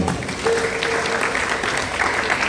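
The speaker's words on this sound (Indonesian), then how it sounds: "Saya pikir perlu aplaus pada beliau." Applause at a formal gathering honouring the late Dr. Sumarsono, dense steady clapping from a crowd filling the whole stretch at even loudness.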